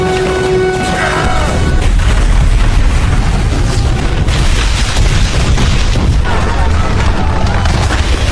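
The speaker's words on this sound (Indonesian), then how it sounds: "langsung memencet tombol detonator bom, dan sontak seluruh istana pun hancur dalam sekejap" A loud, sustained roar of bomb explosions and crashing debris as a palace is destroyed fills the whole stretch, with a brief tone near the start.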